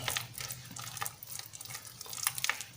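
Nastar cookie dough mixed with egg white is stirred in a bowl, giving quick, uneven scraping and wet sloshing strokes that repeat close up without talk.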